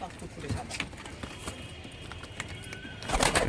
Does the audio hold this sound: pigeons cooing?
yes